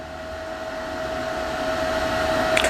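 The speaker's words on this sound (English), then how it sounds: "I'll clean it up with a wire wheel" A wire wheel on a power tool whirs steadily while cleaning a MIG weld made with a Harbor Freight Titanium MIG170 welder, a continuous close, loud spinning drone with a bright tone.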